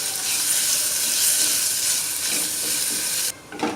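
Mustard seeds, cumin, asafoetida and green turmeric, garlic and ginger pastes sizzling in hot oil, a loud continuous close hiss with faint stirring, cut off abruptly near the end.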